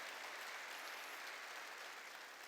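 A church congregation claps together during a sermon, a steady wash of applause heard faintly and from a distance with no voices over it.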